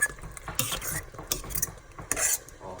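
A fork scrapes and clinks around a pot of simmering vegan spaghetti sauce in quick, uneven strokes over a faint bubbling sizzle.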